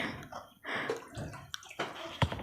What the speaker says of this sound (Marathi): खूप सारं पाणी यामध्ये मी ओतून घेते